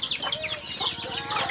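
Chickens on a farm, a close, busy flurry of clucking and chirping calls that overlap continuously.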